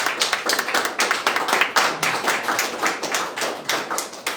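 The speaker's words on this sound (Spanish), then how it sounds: "¿Cuántos le dan un aplauso al Señor?" Church congregation at a Thursday evening service clapping for the Lord, loud close handclaps in a quick, roughly steady rhythm, with individual claps standing out.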